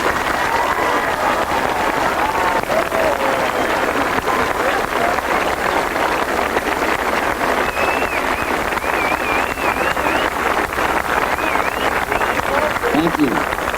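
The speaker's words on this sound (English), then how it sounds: "we give them an applause now together" Sustained applause from a graduation audience honoring the seniors, a dense steady wash of clapping that fills the room without letup, with crowd murmur and a few faint whistles mixed in.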